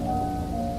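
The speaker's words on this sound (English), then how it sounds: "The rain seems to have gone down to" Rain falling steadily during a thunderstorm, a brief dense wash of drops with a faint tonal hum underneath, continuous and fairly close, no voices.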